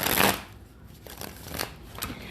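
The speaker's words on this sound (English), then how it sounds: "Cheyenne, let me shuffle for you, sweetie." A quick riffle of playing cards being shuffled close by, a few short rattling bursts over about two seconds.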